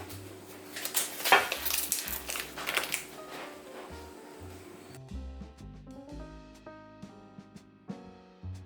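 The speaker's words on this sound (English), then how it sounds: "what I'm going to do is just throw them on this pan" Cooked sausages tossed onto a metal baking pan in a home kitchen, a few clattering knocks and scrapes in the first seconds, followed by quieter handling clinks and taps.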